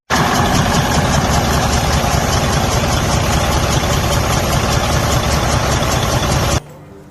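A Detroit Diesel DD15 truck engine with a broken cylinder head or stuck-open head valve, leaking compression and low on power, runs loud and close with a steady, rough, knocking drone, then cuts off abruptly just before the end.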